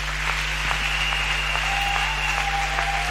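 Congregation applauding at a night worship service in Yaoundé, a steady wash of clapping from a crowd at moderate distance, with a sustained tone running underneath and no clear speech.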